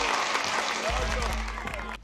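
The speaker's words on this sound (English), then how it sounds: "Ladies and gentlemen, a round of applause." An audience claps in a steady wash of applause that tapers off toward the end, with a low hum and some talking mixed underneath.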